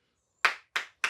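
One person claps hands three times at an even pace, crisp and close, with no talk over the claps.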